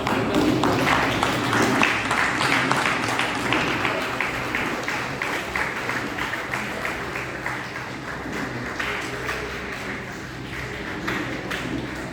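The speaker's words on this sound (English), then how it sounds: "Please give a big round of applause for" Audience applause at a foundation day celebration held in a commerce college hall in Guwahati, dense steady clapping that stays loud and then slowly thins out toward the end.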